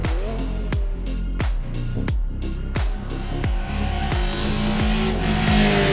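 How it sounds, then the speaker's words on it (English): Mercedes 190E Evo race car in the Assetto Corsa racing game braking hard, its loud engine note dropping through a rapid series of downshift blips with sharp repeated rev falls, steady and close throughout. "And now hard braking for Arenberg."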